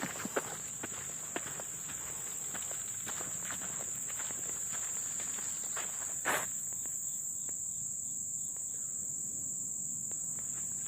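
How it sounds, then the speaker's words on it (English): Crickets chirp steadily during a hike around a lakeside cove at Fort Yargo, a high thin continuous trill under scattered footsteps on a trail, with one brief louder rustle partway through. "Crickets."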